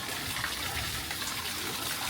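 Naturally hot spring water flows steadily into an outdoor onsen pool in Kagoshima, Japan, a continuous close splashing gush with no voices.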